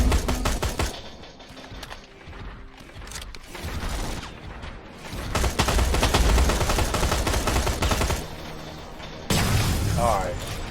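Gunfire in the video game Terminator: Resistance, with loud, close bursts of automatic shots and single cracks that come in dense clusters, broken by brief lulls and heavy booming impacts.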